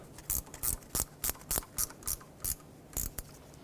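A ratchet wrench tightens knock sensor bolts on a 2012-2020 Ford Focus, about ten sharp, close clicking bursts in a quick, fairly even rhythm against quiet background.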